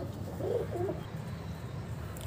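A sick, listless pigeon sits puffed up and gives one soft, short coo that rises and falls, heard faintly over a steady low room hum.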